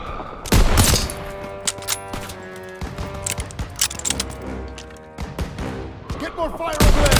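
Gunfire rattles through a Call of Duty WWII street battle, bursts of rifle and machine-gun shots cracking in irregular clusters, loud and close, with shouted voices mixed in.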